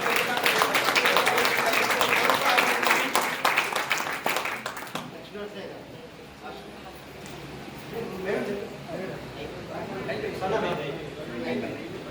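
Loud, dense applause from an audience at a Chattada Srivaishnava community gathering in Hanumakonda honouring artists and scholars, sustained for about five seconds before dying away as a voice starts speaking.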